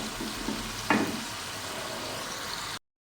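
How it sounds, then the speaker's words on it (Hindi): Minced meat (qeema) fries in a pan, a steady close sizzle with a few brief stirring scrapes near the start, ending abruptly in silence. "कीमे को हम इतना फ्राई करेंगे कि इसका कलर चेंज हो जाए"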